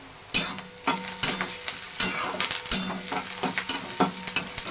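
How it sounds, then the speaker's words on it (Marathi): Sliced onion, curry leaves and green chillies sauté in hot oil while a spoon stirs them, giving a loud sizzle broken by repeated rhythmic scrapes and clinks against the pan. "सगळं मस्त असं परतून घ्यायचं"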